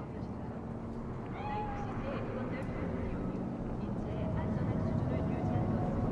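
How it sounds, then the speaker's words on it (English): Cat meowing inside the Cyberpunk 2077 video game, a few short drawn-out mewing calls mixed into a steady low ambient rumble of background game sound, with speech-like audio also present. "Chill. It's just a cat."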